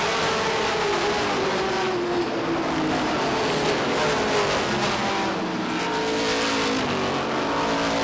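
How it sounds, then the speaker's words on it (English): Stock cars roar around an oval track at Beech Ridge Motor Speedway during a 1991 weekly race, with a continuous loud engine drone and shifting pitch as the pack circles, steady throughout. "Mike Johnson, Bobby Randall, 2 former champions, battling for 4th place position"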